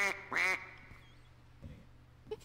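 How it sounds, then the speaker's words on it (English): Cartoonish duck quacks from a character skin in the video game SMITE: two loud, close quacks in quick succession at the start, then quieter scattered game sounds under a low steady hum. "It's a duck."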